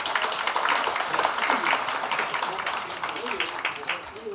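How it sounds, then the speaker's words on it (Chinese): A seated crowd at a public forum event applauds to welcome the Taiwan People's Party chairman Ko, a dense continuous patter that fades slightly as a host keeps talking over it. "我们大家鼓掌一下好了。"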